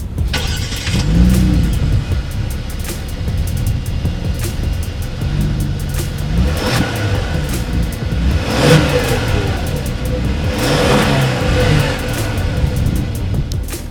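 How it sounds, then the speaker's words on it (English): A 2019 Genesis G80 Sport's sport exhaust revs repeatedly, several sharp rising bursts over a steady rumbling idle, loud and close with no talking. "As always, here is that exhaust clip."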